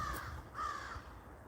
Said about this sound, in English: there's a crow that is following me